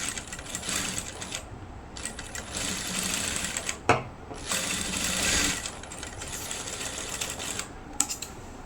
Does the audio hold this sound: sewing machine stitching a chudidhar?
yes